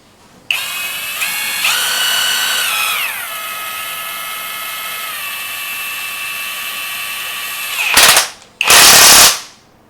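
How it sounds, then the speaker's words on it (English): A compact cordless impact driver whirs loudly and close, its motor pitch stepping down as it runs for several seconds, followed by two short bursts of rapid hammering impacts. "impact driver. It helps like kind of hammer things in."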